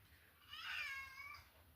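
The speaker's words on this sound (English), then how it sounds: "Now you can hear my kitty meowing" A pet cat meowing indoors, a single drawn-out, fairly faint meow rising and falling over a quiet background hum.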